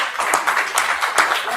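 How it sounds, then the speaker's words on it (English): Audience clapping at an astronomical society meeting, a short burst of scattered hand claps, fairly close and moderately loud, with a few louder individual claps standing out. "You guys are clapping for Forrest."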